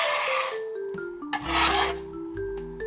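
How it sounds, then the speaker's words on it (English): A lemon is zested on a grater, its rind rasped in two bursts of scraping strokes alongside steady sustained tones. "Now let's zest this one as well."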